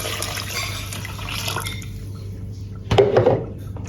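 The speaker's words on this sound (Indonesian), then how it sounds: "tambahkan 700 ml air" 700 ml of water splashes and gurgles as it is poured into a metal pot for a drink recipe, with a brief clatter, following quieter kitchen background noise.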